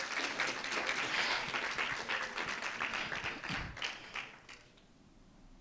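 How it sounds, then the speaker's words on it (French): A seated audience applauds for Colette with close, lively clapping and a few thumps, then the clapping thins out and fades into near quiet. "je vous demande d'applaudir Colette"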